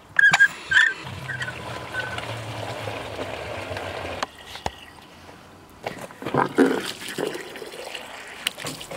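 Water poured from a 5-gallon water cooler pail for pigs at breakfast gurgles in splashing bursts, mixed with close pig grunts and snorts, with sharp noises at the start and end.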